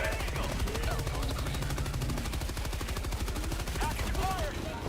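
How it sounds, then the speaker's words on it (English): Rapid sustained machine-gun fire from Helldivers 2, a dense steady burst of closely spaced shots running the whole stretch, loud and close, with faint game effects underneath. "My machine gun has changed setting again."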